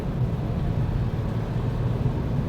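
Steady, low road and engine drone inside a Toyota Urban Cruiser Hyryder cruising on a highway, an even rumble with no talking.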